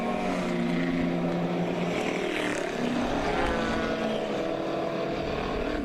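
Endurance race cars at Watkins Glen roar up a hill, their engines ripping in a loud, sustained blended drone with rising and falling pitch, heard alone without talk.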